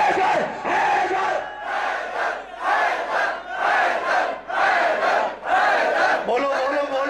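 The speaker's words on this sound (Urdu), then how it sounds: "ہاتھ بلند کر کے حیدر حیدر حیدر حیدر" A large crowd at a religious gathering in an imambargah chants the Haidar slogan in unison, loud rhythmic shouted bursts repeating roughly every second, seven or so in a row.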